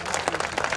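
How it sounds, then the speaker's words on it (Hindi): Loud applause from an audience at a Meghwal community gathering, a short dense burst of clapping with no speech over it. "एक बार जोरदार तालियां।"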